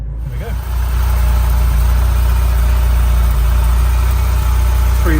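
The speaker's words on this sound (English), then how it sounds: "3-litre QV engine there." A 1983 Ferrari Mondial QV's 3-litre engine idles steadily with a low, even rumble, close and constant throughout, with a brief faint voice at the start.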